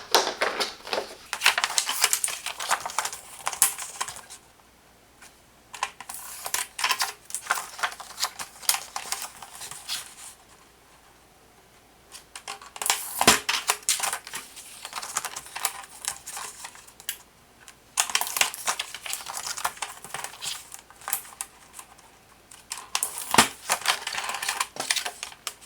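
A Crelando laminator's paper trimmer slides and slices through paper in repeated bursts, several seconds of close, crisp cutting and scraping separated by short quiet gaps.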